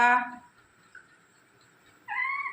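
A parrot mimics a cat's meow: two short, nasal meow-like calls, one at the start and one near the end, with near silence between.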